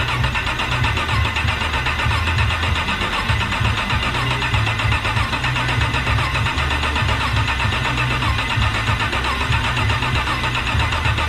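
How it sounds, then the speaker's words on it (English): A custom-built car engine turns over and fires for the first time, its ignition and oil system bypassed for a test run, giving a loud, continuous rough running rumble close by. "that's the first time that motor's turned over on its own power"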